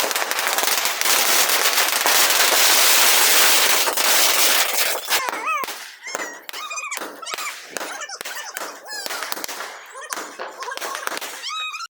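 A long string of firecrackers is set off for Dev Uthani Ekadashi, starting as a dense, loud, continuous crackle that later breaks into scattered pops, squeaky whistles and thuds.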